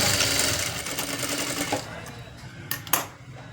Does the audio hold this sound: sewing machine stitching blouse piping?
yes